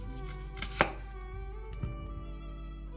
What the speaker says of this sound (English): we're going to behead them. So we're just going to slice the very tops off